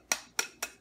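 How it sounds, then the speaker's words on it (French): Egg shell cracked for chocolate mousse, three quick sharp taps close to the mic, each a crisp click that fades fast, in quiet with no talking. "Tu casses l'œuf, je vais vous montrer."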